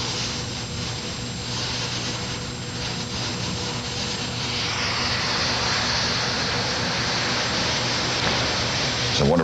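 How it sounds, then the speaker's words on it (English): A helicopter carrying George and Barbara Bush departs at the 1993 presidential inauguration, with a loud, steady rotor and engine roar that swells slightly as it lifts away. "that helicopter will take George and Barbara Bush"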